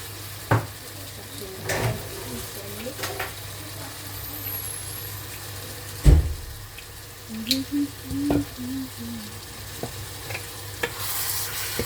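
Food cooks gently in a pan, a soft steady sizzle beneath scattered clinks of cookware and occasional stirring, with a brief thump and faint background sounds, fairly quiet and close.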